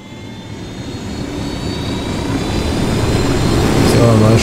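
A helicopter flies in the video game Ghost Recon Wildlands, its steady engine and rotor drone growing gradually louder across the whole stretch.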